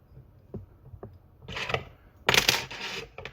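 Metal scissors fall onto a fly-tying bench while a peacock pheasant tail wet fly is being tied, giving a few light taps followed by two bright, clattering metallic rattles.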